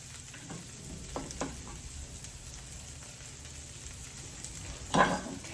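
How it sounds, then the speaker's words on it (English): Kale sautéing in a pan, a soft, even sizzle with a few light taps of stirring and a louder scrape or clatter near the end. "Let's get our kale in here. Just a quick saute."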